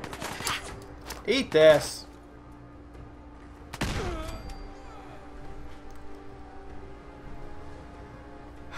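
Gunfire in the Fallout 4 video game: a few short bursts near the start and a sharp loud report around four seconds, then a quieter game backdrop, with someone talking over parts of it.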